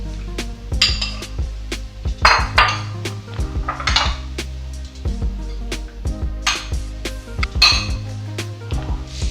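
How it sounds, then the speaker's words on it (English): A spoon stirs porgy ceviche with lime juice in a bowl, making clinks and scrapes against the sides in irregular bursts, with brief rustling swishes between the knocks. It sounds close and fairly clear. "Give it a stir."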